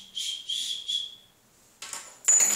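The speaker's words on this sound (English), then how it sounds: "my whistle" A small survival whistle blown three times in quick succession, shrill, then a pause and two louder, harsher blasts close up.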